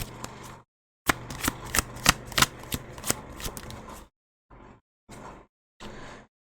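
Tarot cards shuffled and drawn, with a quick series of sharp, close riffle snaps, a short pause, then three brief separate card flicks.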